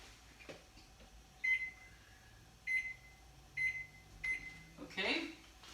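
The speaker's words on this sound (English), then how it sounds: "The timer." A kitchen oven timer beeps while a no-knead plant-based caraway rye bread bakes: four short, clear electronic beeps, roughly evenly spaced, stand out over quiet room background.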